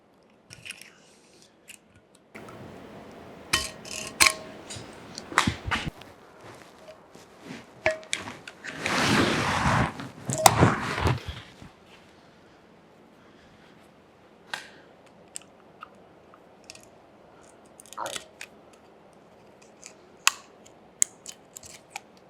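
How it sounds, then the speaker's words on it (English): Close razor blade trimming Turcite way liner material on a Monarch 612 lathe tailstock during restoration: scattered sharp cutting and scraping clicks, with a denser stretch of continuous scraping midway, no talk. "take a razor blade and just kind of trim this Turcite up"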